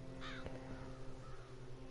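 A crow in a video game demo gives a single harsh caw near the start, followed by softer game ambience and low background tones.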